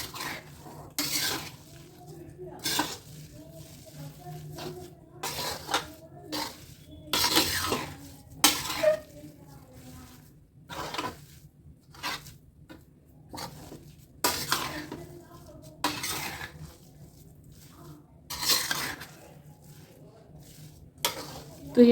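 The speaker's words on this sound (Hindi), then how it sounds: "करीब 5 मिनट तक आपको इस तरह से मिक्स करना ही है।" A spoon works a thick jaggery and flour methi laddu mixture in a pan, giving repeated scraping and clinking strokes at an uneven rhythm, close and moderately loud, with a steady low background hum.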